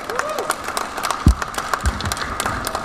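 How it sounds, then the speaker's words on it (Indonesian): An audience at a technical seminar claps for the next speaker, a short burst of scattered, fairly close hand claps with a couple of low thumps. "Kita kasih aplaus buat beliau"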